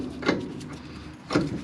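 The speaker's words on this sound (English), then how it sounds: "Now I should be able to slide this back over these" Front brake caliper on a Ford F-150 pickup sliding back over freshly installed brake pads, two short scraping, rubbing metal contacts about a second apart, close and fairly quiet.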